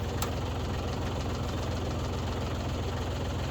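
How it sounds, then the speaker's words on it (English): A tractor engine idling nearby with a steady low knocking throb and faint vibration, running evenly and alone for a few seconds. "I think this tractor will idle for over an hour"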